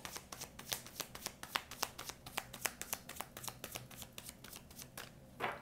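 Tarot cards being shuffled by hand in a steady run of crisp, rapid riffles and flicks, close and fairly loud, with no talking.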